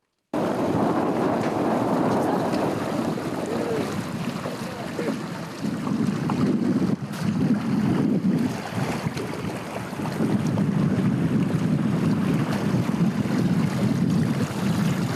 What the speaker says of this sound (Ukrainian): Мене прокатили на катамарані, тому я переповнена емоціями.